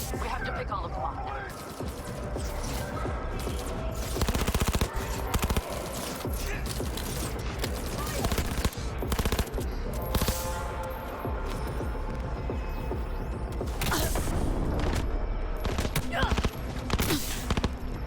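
Sustained video-game gunfire in Cyberpunk 2077, dense bursts and repeated shots over a constant busy battle mix, with mechanical clatter and a voice talking at times.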